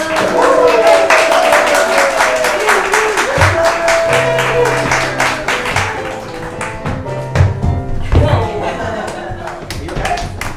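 A theater audience at an improv comedy show gives a loud round of applause that starts dense and fades into scattered claps, with voices and stage noise mixed in.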